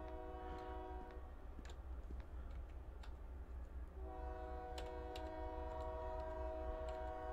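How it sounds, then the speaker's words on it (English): A train passing in the video game SCP: Nukalypse produces a continuous low rumble with sustained horn-like tones and scattered clicks and clanks, steady throughout. "That's the train. Don't mind that."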